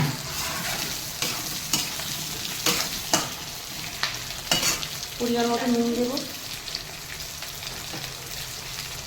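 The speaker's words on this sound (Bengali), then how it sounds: "আলুগুলো দিয়ে দিচ্ছি আলুগুলো পেঁয়াজের সঙ্গে লাল করবো" Potatoes frying with onions in a pan give a steady close sizzle, broken by sharp clicks of a spatula stirring, while a voice speaks briefly partway through.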